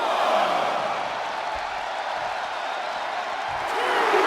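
Capacity arena crowd in WWE 2K25 wrestling gameplay, a steady loud roar of cheering and applause swelling slightly at the end.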